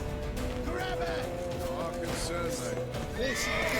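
A horse whinnies amid clip-clopping hooves and a busy background of shouting voices in The Witcher 3: Wild Hunt, loud and close, with a sharp neigh near the end.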